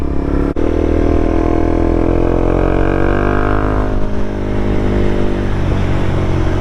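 A Honda CBR300R motorcycle engine revs hard at high RPM, a loud, close, steady whine that holds and climbs before easing off, with a brief click near the start and no talking.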